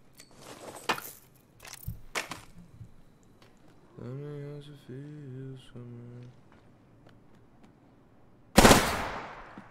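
Gunfire in the video game Apex Legends: a few sharp shots pop at irregular moments, some in quick pairs, and a louder, harsher blast comes near the end. Game tones and a voice are heard between them.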